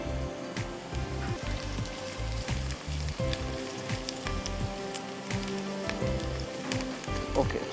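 Beef and onions frying in spiced oil for haleem, a steady dense sizzle and crackle filling the whole stretch, close and even, with occasional louder spits and pops and no talking.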